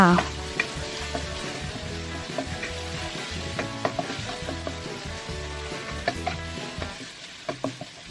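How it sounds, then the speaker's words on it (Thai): Pounded chili, garlic and shrimp paste frying in hot oil in a wok, a continuous close sizzle broken by repeated spatula scrapes and taps as the paste is stirred. "ตั้งกระทะใส่น้ำมันลงไปรอจนน้ำมันร้อน แล้วก็ใส่พริกกระเทียมกะปิ ที่เราโขลกให้เข้ากันลงไปทั้งหมดเลยค่ะ"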